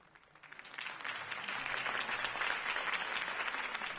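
A crowd applauds after a mayoral-style campaign speech, the clapping swelling from quiet to a steady, dense roar and holding there, with no voices over it.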